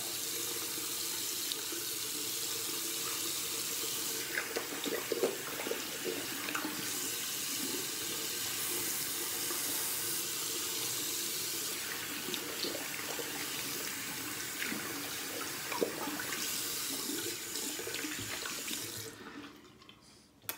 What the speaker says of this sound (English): just rinsing off real quick